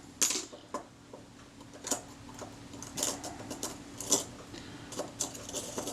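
Soft mechanical ticking and whirring with scattered faint clicks, the slow retard gear train of a Retina IIc camera shutter running slowly and unevenly, close up and quiet.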